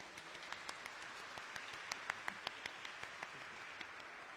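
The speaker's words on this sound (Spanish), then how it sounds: "Un fuerte aplauso, por favor." A small lecture audience in Saltillo gives faint, sparse applause: scattered individual hand claps spaced irregularly, quiet and thin rather than a full ovation.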